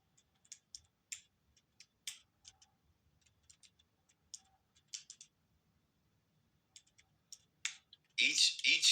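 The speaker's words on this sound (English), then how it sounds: "Let me type that in." Keys on a computer keyboard clatter in short, irregular bursts, soft and close, followed by a louder burst of rustling or clattering at the end.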